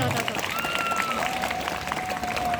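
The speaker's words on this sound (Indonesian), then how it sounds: "Berikan tepuk tangan semuanya" Congregants at a short pre-Ramadan religious talk clap together in a fairly even, moderate patter, with a voice and a sustained tone running over the sound.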